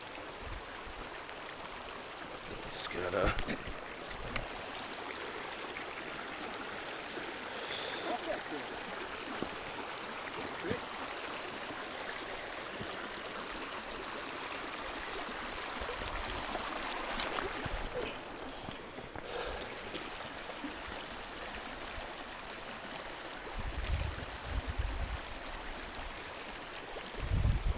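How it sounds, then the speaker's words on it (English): Creek water rushes steadily during a backpacking crossing in the High Uintas, a constant close wash of flowing water that fills the whole stretch, with a few brief louder splashes and a short spoken remark. "here's one of the many river or creek crossings we're gonna have today"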